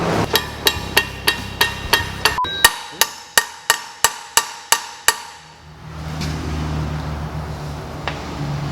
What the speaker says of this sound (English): So I'm just going to try and gently tap this on.